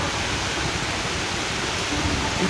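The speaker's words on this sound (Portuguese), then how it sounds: "Começou a cair chuva." Rain falls steadily on a rainy afternoon, giving a dense, continuous, even hiss with no breaks and no talking.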